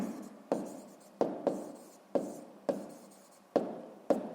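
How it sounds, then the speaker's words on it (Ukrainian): Pen strokes writing a math equation for a sixth-grade exercise, a series of eight quick scratchy strokes, each starting with a sharp tap and trailing off, close and fairly quiet, with no talking. "Записуємо праворуч."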